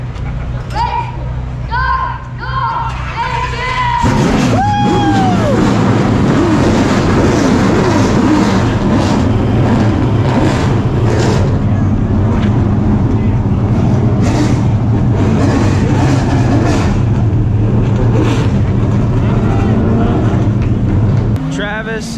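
Stock car engines fire up and roar together at Florence Motor Speedway, a loud sustained rumble that begins a few seconds in and holds steady, following a brief stretch of talk over the crowd.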